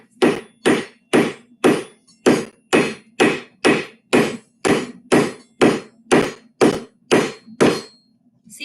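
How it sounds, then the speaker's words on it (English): Hot metal is hammered on the horn of an anvil at a forge, about fifteen loud, evenly spaced ringing strikes in a steady rhythm, close up and with no talk. "So she's working on using the horn of the anvil now. I need to flatten this because it's bending."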